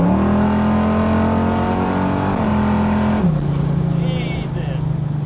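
A 1968 Chevrolet Camaro Z-28 revs hard and accelerates, its loud engine drone climbing steadily before shifting down and settling, heard up close throughout.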